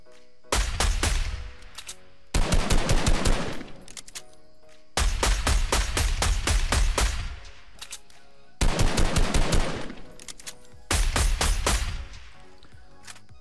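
Fortnite's automatic sniper rifle fires in five loud, rapid bursts of sharp cracks, each lasting one to two seconds and separated by brief pauses, close and clear with no talking.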